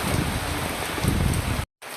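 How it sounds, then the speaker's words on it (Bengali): Steady, close rain hisses and patters continuously, then cuts out briefly before resuming. "এত সুন্দর বৃষ্টি"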